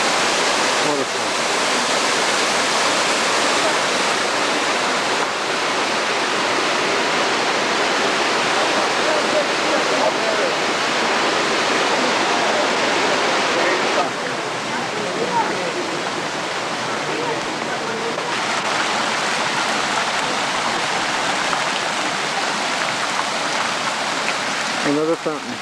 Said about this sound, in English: Another fountain in the gardens of Tivoli.